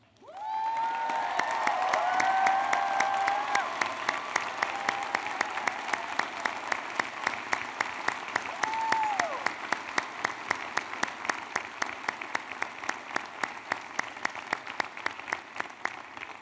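Sustained audience applause at the Berea College 2017 commencement, a dense steady clatter of many hands filling the hall, with a few faint tonal whistles or voices rising over it early on, continuing evenly for the whole stretch.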